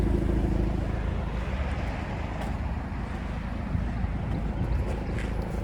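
A 2023 Maserati Grecale Modena with a 2-liter turbocharged four-cylinder idles and rumbles with a low, steady exhaust drone, fairly close, with no talking over it.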